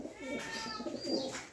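Lahori pigeons coo softly, a low rounded call heard close but faint, with no other voices.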